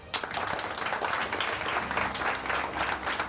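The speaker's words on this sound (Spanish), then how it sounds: "yo les voy a pedir un aplauso a ustedes." A group of football players bursts into brief applause, close, dense clapping that holds steady for a few seconds without talk over it.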